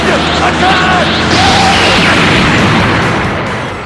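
A Big Bang Attack blast from Dragon Ball Z: Budokai on the GameCube, a dense, loud roaring burst that fills the whole clip. It sustains for several seconds with game voice sounds mixed in, then tails off slightly.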